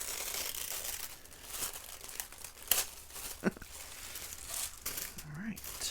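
Paper wrapping on a birthday gift package crinkles and tears as it is ripped open by hand, close and fairly loud, with uneven rustling bursts and a sharper rip partway through.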